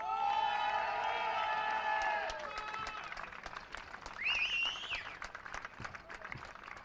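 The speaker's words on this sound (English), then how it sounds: "A deserved round of applause for Morgan Risch there" A crowd applauds and cheers the winner of a karting final at Le Mans, with loud clapping that stays steady and then thins out, while a voice talks over part of it.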